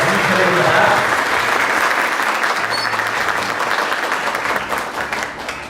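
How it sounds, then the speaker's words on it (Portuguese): A seated audience at a formal university ceremony gives loud, steady applause for a professor, which tapers off gradually toward the end. "Uma salva de palmas para a professora doutora Yasmin Jamil Nadar."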